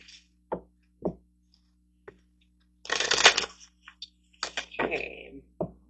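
Tarot cards being shuffled and handled, with a few soft taps and short riffling bursts separated by pauses, close and fairly quiet, while a person speaks between them.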